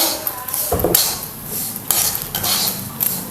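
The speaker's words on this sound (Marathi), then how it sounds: "आपण चांगला रवा भाजून घेऊया" Semolina (rava) roasts in a pan while a spoon stirs and scrapes it, making repeated loud, close metallic strokes in an uneven rhythm, with no voices.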